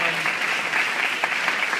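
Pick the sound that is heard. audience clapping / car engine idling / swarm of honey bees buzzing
audience clapping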